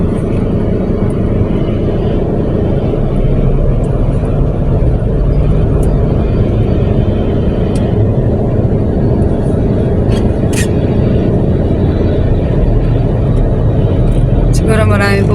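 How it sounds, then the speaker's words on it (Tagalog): Busy street traffic in La Union, a steady loud roar of passing cars and engines close by throughout, with a few higher clicks and a rattle near the end. "Traffic na rin sa LU."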